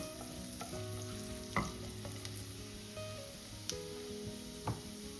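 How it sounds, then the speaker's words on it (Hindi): Oil sizzles gently around finely chopped garlic and green chili, a steady crackling hiss with a few brief clinks of a spoon against the pan. "अब डालेंगे बारीक कटा हुआ लहसुन और 1 हरी मिर्च। कुछ सेकंड्स के लिए सौटे करेंगे।"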